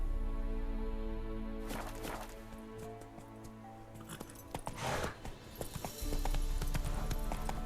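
Roach, the horse in The Witcher 3, trots with steady clip-clop hoofbeats under a sustained game music bed, with a few heavier thumps and a brief loud scuffle partway through.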